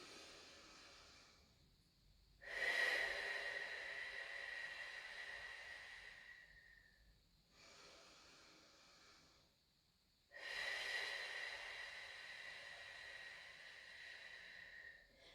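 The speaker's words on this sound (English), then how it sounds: "Take these next couple of breaths in your own time." Slow, controlled breaths during a pregnancy mobility workout, two long airy inhales or exhales with a hissy, slightly nasal tone, close and soft, separated by near silence, no talking.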